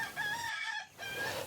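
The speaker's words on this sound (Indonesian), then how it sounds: "ayam ketawa yang memiliki suara dan spasi irama mengalun seperti musik dangdut" Ayam Ketawa, the Indonesian laughing chicken, gives a rhythmic, lilting crow in close, clear bursts with a short gap between phrases, alone with no talk.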